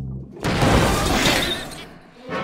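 A sudden loud cartoon crash of broadband noise bursts in, churning and rumbling for over a second before cutting off, with a low thud following.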